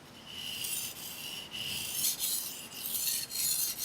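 Repeated rasping strokes of a Mizuno knife drawn across a recently flattened whetstone, close and fairly loud, in an uneven back-and-forth rhythm with short pauses between passes.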